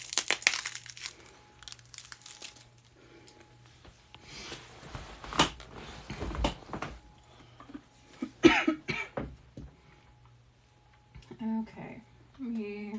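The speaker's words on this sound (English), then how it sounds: "hopefully I'll stop my coughing." A person coughs several times in bursts, with crinkling and rustling noises in a quiet room and brief bits of talk near the end.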